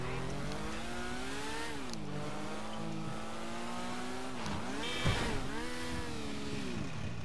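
Tron bike engine in GTA V with a steady electronic whine whose pitch climbs and dips as it rides, loud and continuous throughout, with a brief burst of noise around the fifth second.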